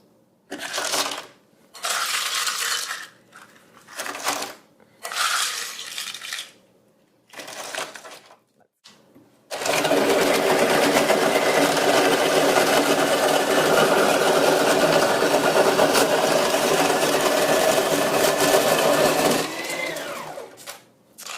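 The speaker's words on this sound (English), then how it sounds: "when you're crushing ice" A Cuisinart snow cone maker grinds ice in short loud bursts with pauses between them, then runs in one long, steady, harsh crushing whir that lasts about ten seconds before cutting off.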